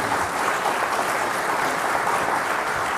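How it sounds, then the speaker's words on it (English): Loud, steady applause from a sizable conference audience, dense clapping sustained evenly throughout with no voices standing out. "Let's have a loud round of applause for everyone."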